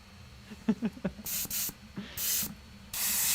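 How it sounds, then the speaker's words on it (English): An airbrush compressor sprays in several long hissing bursts separated by pauses, preceded by a few short knocks, loud and close with no talking; it is being used to paint a Warhammer 40k Space Marine Primaris Suppressors miniature. "it sounds like that compressor needs gas"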